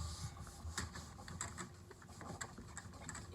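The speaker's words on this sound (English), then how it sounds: "So that's like a sound test on my keyboard." Typing on an RGB computer keyboard, a quick run of close, quiet key clicks and taps at an uneven rhythm, with no talking.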